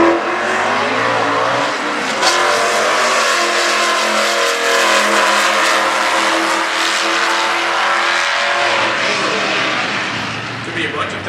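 A 1988 Fox Body Mustang drag racing in stock class eliminations roars continuously at full throttle, a harsh, steady drone with a brief rising rev near the start, fading slightly at the end.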